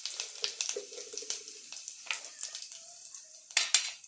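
Cumin seeds crackle and sizzle in hot oil for a village-style egg curry, a steady close frying hiss broken by sharp spattering pops and a few utensil clinks, with a brief murmur of speech.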